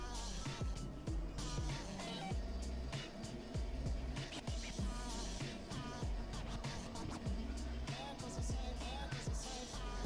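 An electric actuator lowers the rear bed of a Glenaire camper trailer, giving a steady low motor hum that runs throughout with scattered clicks and knocks from the moving frame.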